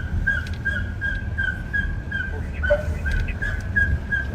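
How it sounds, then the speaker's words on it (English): A dog's squeaky, high-pitched bark repeats in a quick steady rhythm over a constant low rumble, with one sharper yelp near the end and no talking. "Ooh, a very squeaky bark."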